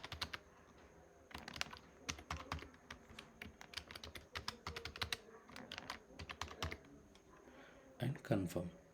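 Password being entered on a computer keyboard, a quick irregular patter of close key clicks in clustered bursts, with a few louder taps near the end.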